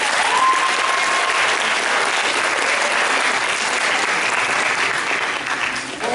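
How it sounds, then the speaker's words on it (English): Graduates at a Lincoln graduation clap their hands together in a loud, dense, sustained burst of applause from a large crowd, continuous throughout with no talking on top. "clap your hands"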